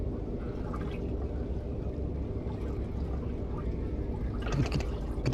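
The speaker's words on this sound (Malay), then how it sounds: "Air laju-laju dia ada." Fast-flowing water of a river in Johor, heard from a fishing raft as a steady, close rushing and gurgling wash that runs throughout, with a brief splashy swell near the end.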